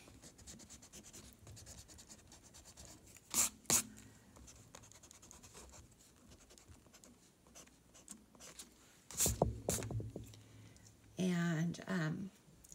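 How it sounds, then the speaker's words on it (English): Pencil guidelines are erased from paper in a few brief bursts of rubbing, the longest near the end, with a faint background hum and no talking. "I'm going to erase my extra guidelines before I start painting."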